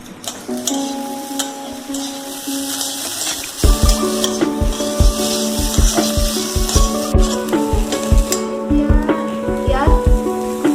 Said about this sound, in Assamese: তাত আমি আদা নহৰুৰ পেষ্টটো দি দিলোঁ আৰু 1 মিনিটমান এইখিনি লৰাই লওঁ